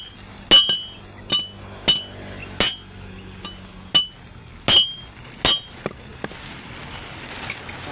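An iron bar being cut by hand, heard as about a dozen sharp, bright metallic strikes spaced roughly half a second apart, each ringing briefly, close and loud with no talking.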